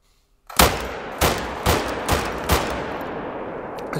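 Reaper rifle firing in theHunter: Call of the Wild, five sharp loud gunshots spaced about half a second apart, each with a short rumbling tail, heard alone.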